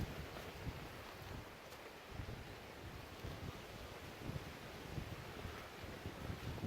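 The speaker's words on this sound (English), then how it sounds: "it is a little bit windy" Soft, steady rushing wind along a wooded river bank, with low rumbling gusts buffeting the microphone, fairly faint and continuous, no voices.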